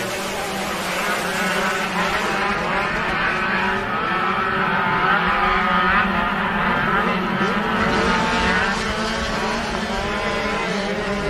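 Off-road race cars roar back up to speed together after a green flag restart, a dense sustained engine drone that holds steady throughout with a commentator talking over it.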